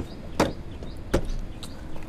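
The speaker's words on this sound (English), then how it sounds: "if you want to fold the seats down, seat backs down, you have to come open this door" The rear door of a 2018 Toyota Harrier 2.0 Turbo is opened, giving two short, close clicks of the latch and handle about a second apart against a quiet background.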